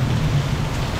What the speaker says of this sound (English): The sound of the rain is very soothing. Not this thunder, the sound of the rain.